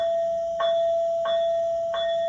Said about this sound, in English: F5 is the classic bell